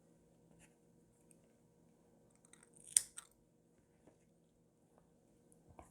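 Scissors snip crochet yarn once, a short crisp cut in an otherwise quiet room, with faint handling rustles before and after.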